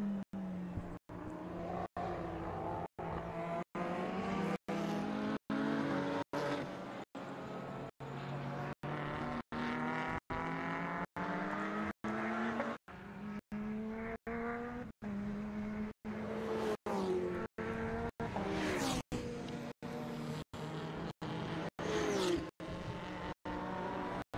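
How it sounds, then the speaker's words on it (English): Race cars lap a circuit at a New South Wales motor racing championship round, a six-cylinder Lotus Exige among them, in a loud, continuous engine drone with shifting pitch and sharper revving sweeps near the end. "So on screen at the moment, the 456 Lotus of Valari Musman, which is actually a 6-cylinder"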